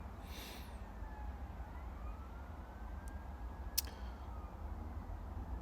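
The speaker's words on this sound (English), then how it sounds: "we got the sirens in the background" Faint police sirens wail far off, slow rising and falling tones drifting over quiet background noise, with a few sharp clicks nearby.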